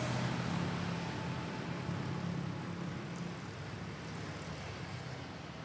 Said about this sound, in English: we have an ATR 72 of Air Swift going headed to runway 31